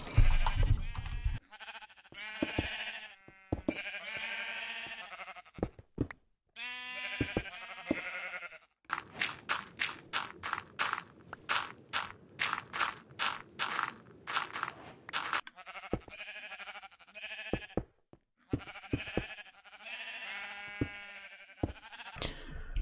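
Minecraft sheep on a survival-world farm bleat again and again in short wavering cries, broken up by a long burst of rapid block-placing clicks.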